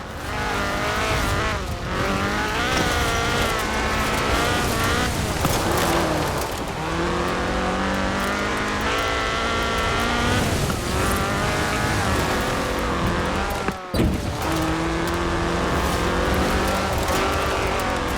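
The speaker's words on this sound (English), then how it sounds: "This was a car designed explicitly for rallying, with a powerful fuel-injected 1790cc Cosworth BDE engine." Ford RS 1800 rally car with a fuel-injected 1790cc Cosworth BDE engine in Forza Horizon 4, revving hard through repeated gear changes with rising and falling engine pitch, close and loud, with tire noise.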